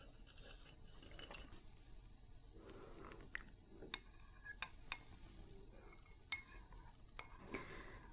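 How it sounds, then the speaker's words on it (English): A metal spoon stirs honey-sweetened tea in a cup, soft swirling scrapes broken by several bright, distinct clinks against the rim, close and quiet with no talking. "Just gonna stir it up."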